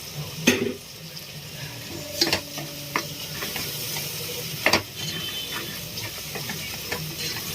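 Chopped tomatoes and green chillies fry in a pan with a constant sizzle, broken by a few sharp spoon scrapes and stirring knocks against the metal.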